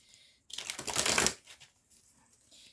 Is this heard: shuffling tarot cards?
yes